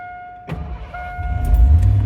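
A 1987 Ford F-150 farm truck with 114K miles starts with a sharp burst of cranking, then its engine catches and settles into a low rumble that grows louder and rougher. A steady electronic chime tone rings throughout.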